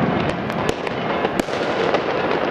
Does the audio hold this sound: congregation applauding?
no